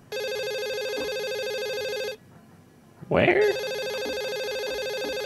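Telephone ringing in Garry's Mod, a loud steady electronic ring that cuts off, pauses, then resumes and keeps going, with a brief spoken voice in the gap.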